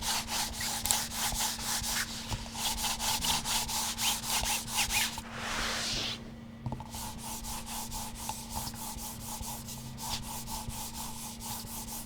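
Steady, soft rhythmic scraping of a mouse sliding back and forth across a Lamzu Energon cloth gaming mousepad, repeated strokes at an even pace, close and fairly quiet.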